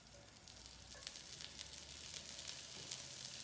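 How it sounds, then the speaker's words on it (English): Bacon frying in a hot fry pan, a steady bright sizzle and crackle with scattered pops, continuous and close, with no talking. "Now, fry pan is increasing slightly in terms of temperature. I'm going to add some of our bacon."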